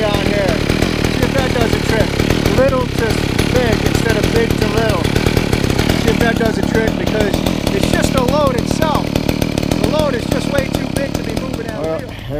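A bicycle powered by a chainsaw engine and fitted with a small pulley runs continuously close by, with a loud, rattling two-stroke buzz whose pitch keeps revving up and down, and a voice heard over it.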